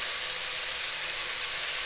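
A pan of vaghar tempering with garlic paste and salt hisses in a dense, even sizzle, close and fairly loud, with no break across the short stretch.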